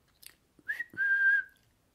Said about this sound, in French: j'entendis un petit sifflement.